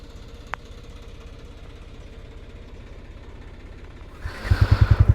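A motorcycle engine ticks over at a low, even idle, then is revved into a louder, chugging pulse near the end.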